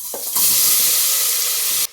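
Onion and carrot with tomato, garlic, a bay leaf and cinnamon hit hot oil and Amul butter on a high flame, bursting into a loud, close, continuous sizzle that cuts off abruptly.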